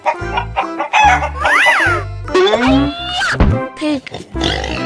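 Chickens cluck and crow in a 3D animal video game, quick repeated calls close up over a bouncy game backdrop, with no talking.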